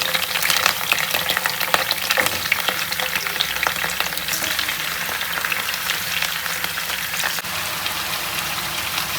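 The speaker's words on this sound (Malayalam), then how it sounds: "ഇനി നമുക്കിത് രണ്ട് സൈഡും ഫ്രൈ ചെയ്തിട്ട് എടുക്കാം" Chicken fries in coconut oil with curry leaves, a loud, dense, rain-like crackle and spatter that holds steady throughout, with faint stirring and no voices.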